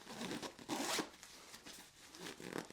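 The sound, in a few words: zipping a compression zipper on a packing cube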